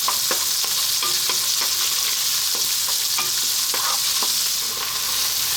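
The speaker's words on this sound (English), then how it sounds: "we're going to go with our onion, in that goes, and then on this kind of fairly lively heat" Onions frying over fairly lively heat for dhal give a steady, loud sizzle, broken by repeated scraping stirs of a utensil in the pan.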